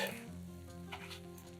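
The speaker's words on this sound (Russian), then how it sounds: "Затем точно так же жарим оладьи из остального теста." Lavash batter pancakes fry in a pan, a close, steady sizzle with faint crackles and a stirring scrape, no talk.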